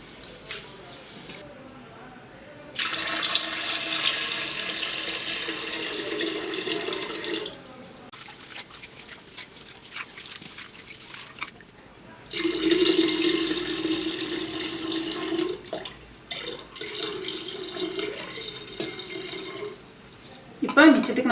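Water poured from a vessel into a clay pot for making sweet pongal, arriving in several long splashing pours separated by short pauses, close and moderately loud.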